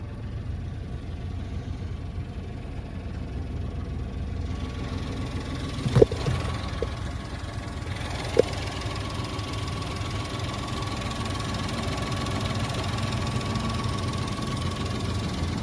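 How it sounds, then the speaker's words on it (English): A 1994 Honda Acty's 660 cc three-cylinder engine idles steadily at close range, with a faint ticking, ratchety mechanical rhythm and a couple of brief sharp clicks partway through. "660 3-cylinder motor"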